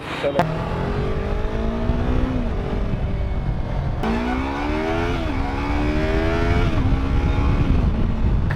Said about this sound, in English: We are stuck in a crazy traffic jam at Suchitra